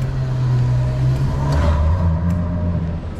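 A Ferrari rumbles past in the street on a sunny day, its engine note loud and steady with a deep low drone that shifts in pitch as it goes by, heard close up with no talk.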